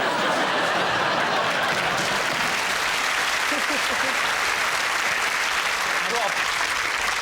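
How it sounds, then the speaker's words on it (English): Studio audience on a comedy panel show breaks into steady, loud applause mixed with chuckles and laughter, continuous for several seconds with no break. "The applause begs to differ."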